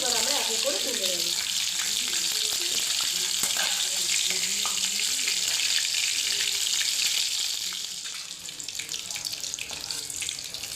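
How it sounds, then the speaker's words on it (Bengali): Chicken pieces for chili chicken fry in hot oil, giving a loud, steady, close sizzle that fills the whole stretch and eases slightly toward the end. "এই মাংসগুলো লাল লাল করে ভাজা হয়ে গেছে"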